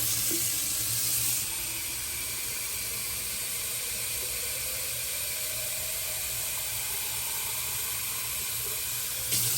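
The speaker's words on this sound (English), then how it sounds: "so I need to put more water in" Tap water runs steadily into the plastic water tank of a Jura ENA 4 espresso machine, a continuous close hiss and splash lasting nearly ten seconds with a faint rising tone as the tank fills, no voices.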